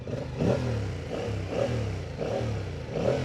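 A 2025 Yamaha MT-07 Y-AMT motorcycle engine runs close and fairly loud, a throbbing mid-pitched note that swells and eases in a few slight rises of revving.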